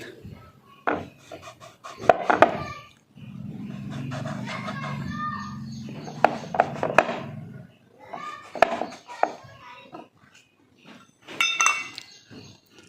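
A steel lid pressing through thinly rolled, spicy tikhat puri dough, cutting rounds with soft scraping rubs and light clinks against a board, spread over several bursts with pauses and handling noises between.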